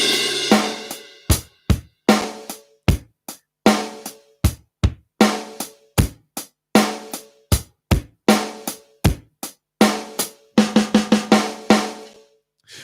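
Drum kit struck on snare drum, high tom, mid tom and floor tom, a close, loud series of sharp separate hits in an uneven rhythmic pattern, each ringing briefly before the next, with short gaps between phrases.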